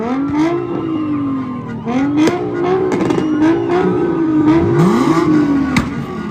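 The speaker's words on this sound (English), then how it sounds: "Revving up those engines like that is dangerous." Several car engines rev repeatedly during a street protest in Charlotte, with pitch rising and falling in overlapping waves. The engines are loud and close, with sharp pops and clatter and no clear talk over them.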